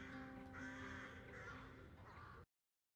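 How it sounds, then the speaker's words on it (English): Crows caw repeatedly in an anime episode, harsh rasping calls overlapping in a busy, fairly close chorus with no talk over them. "Why all the crows, though?"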